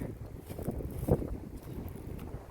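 Gusty wind with gusts up to 100 mph buffets the microphone, with low rumbling surges and one stronger thump of a gust; no voices.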